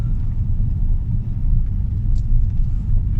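Cars rumble past a golf course in Morden, Canada, a steady low drone that swells slightly and never breaks, with no voices over it.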